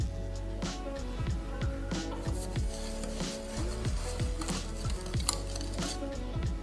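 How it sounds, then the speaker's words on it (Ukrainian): A spoon stirs flour, cocoa, baking soda and sugar together in a bowl for a microwave chocolate cake. Close, rhythmic scraping and light clinks repeat steadily with no speech. "До борошна додаємо какао, соду, цукор і все добре перемішуємо."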